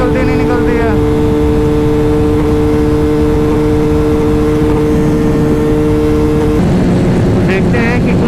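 Yamaha R15, Pulsar RS200 and Pulsar 220F motorcycles race at full power, giving a loud, steady, buzzing engine drone with a high whine. The engine pitch changes sharply near the end as one bike passes.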